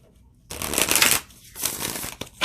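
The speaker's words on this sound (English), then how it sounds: "Totally divine to shuffle." Glossy oracle cards being shuffled up close, with crisp riffling bursts separated by a brief pause.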